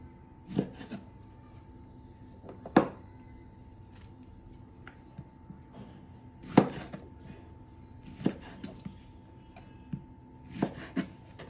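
A knife chops figs on a board in irregular, separate strokes, each a sharp thud, with quiet pauses between cuts.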